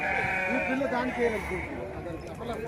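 Sheep at the Gudur sheep market bleat repeatedly in a steady wavering chorus, close and loud over a busy crowd murmur, with people talking throughout.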